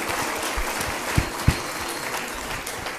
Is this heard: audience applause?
yes